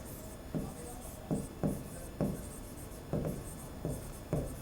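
Writing on a board during a math lesson on lines and angles: short, scratchy strokes repeat in an even rhythm, each a brief rasp, over steady room noise with no talking.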